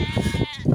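Goats bleating on a traditional sheep farm during milking, two short, close, quavering bleats in quick succession.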